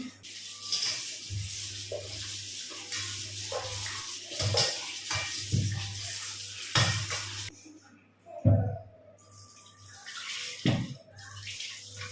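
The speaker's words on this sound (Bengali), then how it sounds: "আগে মাংসটাকে আমি ধুয়ে নিই" Goat meat being rinsed by hand in water in a home kitchen, with steady splashing and sloshing, a running tap or pouring, and occasional clinks of a pot or bowl, close and moderately loud throughout.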